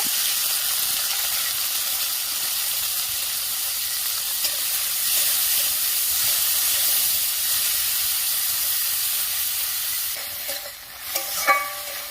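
Prawns coated in salt and turmeric frying in hot mustard oil in a kadai, a loud steady close-up sizzle and hiss that continues throughout, with a couple of brief utensil clicks near the end.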